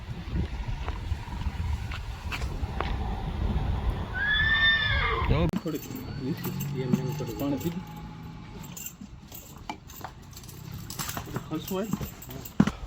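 A horse gives one loud, wavering whinny midway, surrounded by metallic jangling, clattering and people talking.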